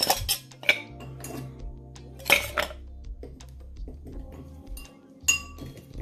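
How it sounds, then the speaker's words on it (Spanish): Ice cubes dropped into a cocktail shaker make a few sharp clinks and clatters over a low steady hum, close and fairly quiet. "vamos a ocupar esta ocasión la coctelera la famosísima coctelera y vamos a rellenarla con hielo"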